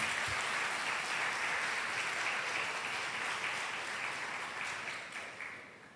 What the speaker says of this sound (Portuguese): aplauda bem forte.